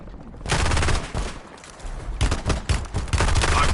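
Dense automatic gunfire from a Warzone match crackles in loud, sustained bursts with overlapping shots, a brief lull in the middle and then heavy firing again.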